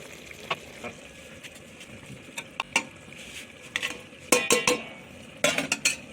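A utensil scrapes and clinks against a pan while mutton is stir-fried with coriander, cumin and biryani spice, the stirring strokes coming in irregular bursts that bunch into rapid clusters, close and moderately loud over a faint sizzle.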